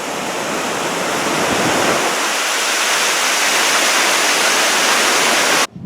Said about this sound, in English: Up here at the top of the waterfalls